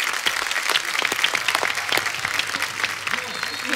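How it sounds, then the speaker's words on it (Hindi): Loud studio audience applause on a Hindi comedy talk show, a dense steady burst of many hands clapping with scattered cheers, filling the whole stretch with no talk over it. "एक बार जोरदार तालियां"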